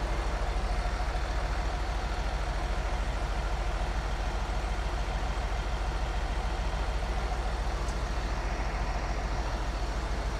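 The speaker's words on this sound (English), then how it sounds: "So we're just idling around 800 RPMs, 850-ish" An Allis tractor engine idles steadily at around 800 RPM, a continuous loud, even rumble with no variation in pace.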